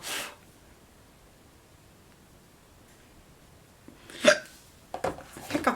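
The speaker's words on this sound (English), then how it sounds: "Hiccups." A person hiccups several times: one short hiccup at the start, then a quiet pause, then a few sharper hiccups close together near the end, all fairly close and moderately loud.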